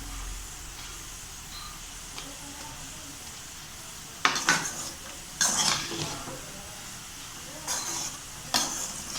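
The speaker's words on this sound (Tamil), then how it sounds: "நம்ம லாஸ்ட்டாக கொஞ்சமாக கொத்தமல்லி தழை பொரிக்கலாம்." Coriander leaves sizzle in a hot pan under a steady hiss, broken by a few louder bursts of stirring and scraping, finishing chicken fried rice.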